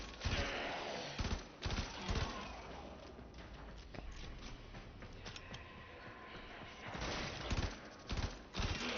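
Gunfire in Warframe comes as repeated loud sharp shots and short bursts in uneven clusters, close and punchy, over rumbling combat noise.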